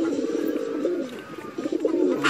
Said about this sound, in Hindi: देखे, इनमें बहुत सारे परिंदे हैं, मद्रासी भी हैं, कल्दुमे भी है, जीरे भी है